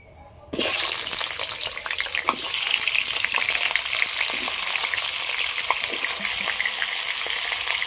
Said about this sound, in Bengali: তেলটা গরম হয়ে গেছে। মাংসের জন্যে আলু এরকমভাবে কেটে নিয়েছি, আলুগুলো আগে ভেজে নেব।